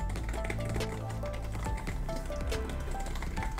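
Typing on ZAGG Pro Keys, a soft-material keyboard case for an 11-inch iPad Pro: quick, continuous close-up clicking of keys at a steady rapid pace.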